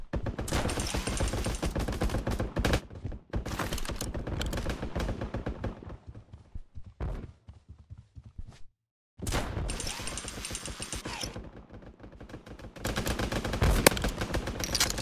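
Rapid bursts of video game gunfire from a battle royale match rattle loud and close, with dense automatic volleys broken by short pauses and a brief silence before the firing resumes.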